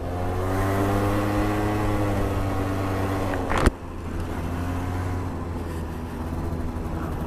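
A popular beginner stunt motorbike, a standard model produced since 2010, runs at a steady engine drone during a test ride, with one sharp burst midway before the hum settles again, no talk over it.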